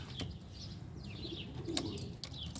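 Young homing pigeons in a large loft giving soft, low coos, faint and intermittent over quiet room noise, with a few sharp clicks or wing flutters between.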